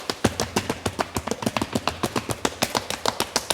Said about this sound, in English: Let's play 1 bar of flat-footed stomping and 1 bar on the ball of a foot